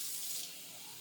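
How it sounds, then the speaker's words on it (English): Tap water runs steadily into a cooking pot in a home kitchen, a close, even hiss without a break that eases slightly after the first half second. "let's put a little bit of water in there"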